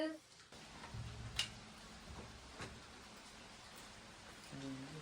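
Soft, steady rain hisses throughout with a few faint ticks of drops, and a voice speaks briefly at the beginning and end.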